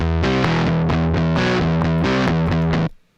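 Electric guitar heavily distorted through the SoundToys Decapitator plugin, dense and buzzy with a muddy, saturated tone, chords played in a steady rhythm before cutting off abruptly.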